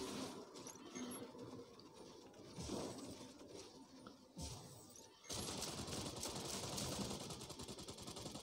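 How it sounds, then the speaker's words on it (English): Rapid bursts of pulse cannon fire from a mech in a game, loud and crackling, with sustained rattling salvos and brief gaps before a dense continuous volley near the end. "It's pulse cannon."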